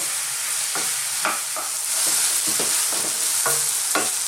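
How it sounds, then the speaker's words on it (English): Zucchini and other vegetables sizzle in a pan over medium-high heat, with a constant loud hiss broken by repeated scraping stirs and tosses, and no voices. "We're just gonna throw this around in the pan"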